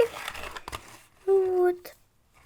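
Packaging of an advent calendar for dogs and cats crinkling as it is unpacked: brief close rustles and crackles, with a voice heard in between.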